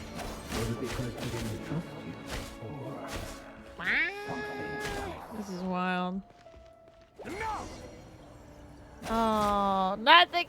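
A cat in the video game Genshin Impact meows several times in high, drawn-out bends, mixed with other game sounds and clicks, interleaved with speech.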